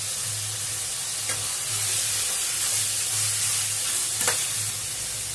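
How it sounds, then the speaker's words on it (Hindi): Chowmein ingredients fry with salt in a pan: a continuous loud sizzle and hiss with occasional clicks of stirring, no voices. "इसको अच्छी तरीके से भूनते हैं, नमक भी डाल देते हैं और इसको 2 से 4 मिनट के लिए ऐसे भूनते हैं"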